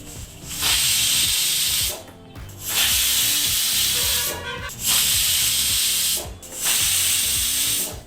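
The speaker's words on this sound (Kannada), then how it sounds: "ಇಲ್ಲಿ ಕುಕ್ಕರ್ ನಾಲ್ಕು ವಿಸಲ್ ಬಂದಾಯಿತು" A pressure cooker cooking mutton for biryani releases steam in four loud hissing whistle bursts, each about one to two seconds long, separated by brief pauses.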